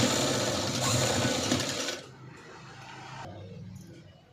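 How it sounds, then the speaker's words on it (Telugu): A sewing machine stitches the shoulder seams of a princess-cut blouse, a loud steady whirring run that stops abruptly midway, leaving a quieter hum and faint mechanical ticks. "ఫస్ట్ షోల్డర్స్ స్టిచ్ చేసుకోవాలి."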